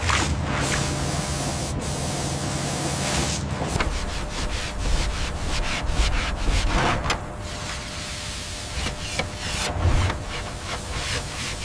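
A high-pressure spray blasting the lower section of a large robot war machine during restoration, a loud continuous hiss broken by rapid bursts and shifting pulses as the jet moves across the surface.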